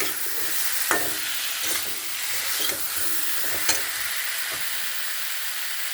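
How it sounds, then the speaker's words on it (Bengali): Cauliflower florets are stirred and fried with spices in a pan in a village kitchen, producing a dense continuous sizzle broken by a few sharp spatula scrapes and knocks. "ফুলকপিগুলো এই মশলার সঙ্গে একটু মিশিয়ে নেব।"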